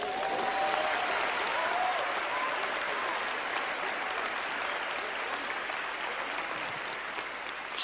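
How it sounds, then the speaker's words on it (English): A church congregation claps hands together during a sermon, a broad sustained wash of applause that holds steady and slowly eases off, with no voices rising above it. "All the witnesses, clap your hands."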